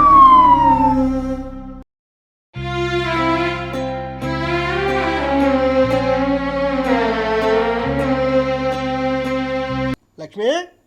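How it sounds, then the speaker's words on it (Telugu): An ambulance siren wails loudly and close in a steady rising and falling tone, cutting out briefly and then returning, with a short sound at the very end. "అంబులెన్స్."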